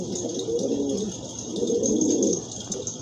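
Pigeons kept for sale coo nearby in two long, throaty rolling phrases over a constant background hiss, with no talking.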